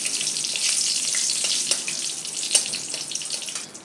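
Two broken green chilies fry in hot oil for a tempering, a steady bright crackling sizzle with scattered sharp pops, close and continuous without talk.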